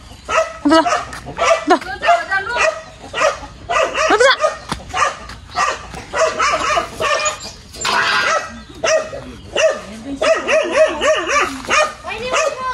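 A dog barks repeatedly in loud bursts, with yips and whimpering mixed in, while people talk nearby throughout.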